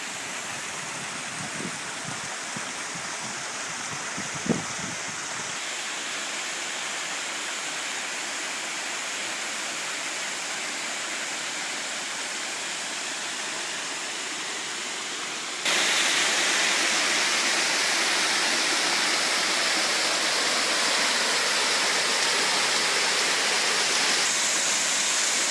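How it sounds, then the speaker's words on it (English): A small waterfall in Pha Taem National Park pours in a continuous broadband rush, close and loud, with a few faint knocks early on and the roar growing brighter later, no voices. "Found another cool little waterfall spot."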